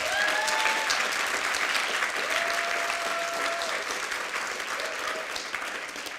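An audience at an impact accelerator summit claps steadily throughout, a dense sustained round of applause that gradually tapers slightly, with a few faint voices underneath.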